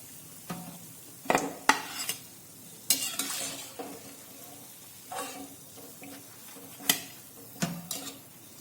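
Bitter gourd bhajiya (karela pakoras) frying in hot oil, with a soft bubbling sizzle broken by several sharp clinks and scrapes of a utensil against the pan as the fritters are turned and lifted out.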